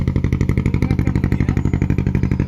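An engine-driven boat motor chugs steadily in a fast, even pulse as the boat pulls away on the Ganges, loud and close with no voices over it.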